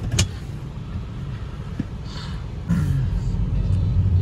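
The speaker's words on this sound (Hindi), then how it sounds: "तो गाड़ी बिल्कुल बढ़िया चल रही है" A Skoda Rapid runs after an overheating repair, heard as a steady low engine rumble from inside the car with a brief rise in level partway through.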